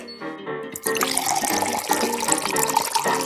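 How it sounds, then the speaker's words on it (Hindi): Water pours into a drink mixed from cotton candy and other ingredients, a short quiet trickle followed by a steady bubbling, splashing flow close by. "पानी डालो"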